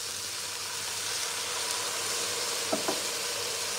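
White wine poured into a hot pan of shrimp bisque base with tomato paste, giving a steady broadband sizzle throughout with a couple of brief clinks near the end; no talking.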